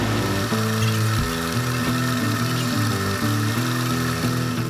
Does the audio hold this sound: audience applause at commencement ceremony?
no